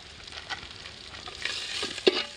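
Whole spices such as cinnamon crackle and sizzle in hot oil while being stirred in a pan, a busy, close frying hiss with scraping stir strokes and a few sharper pops toward the end.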